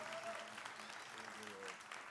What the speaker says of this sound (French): Applaudissez très fort, très fort, très fort.